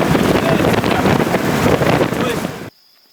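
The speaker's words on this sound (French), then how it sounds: "Il est nécessaire de parler plus fort que le bruit du moteur et du vent" Riding in an open truck in Thailand, a loud continuous roar of engine and rushing wind fills the air, steady and close, then cuts off abruptly near the end.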